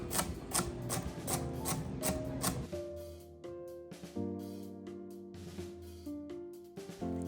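A knife chops celery into small pieces on a board. Quick, regular close taps come first, then sparser cuts over a faint musical tone in the background.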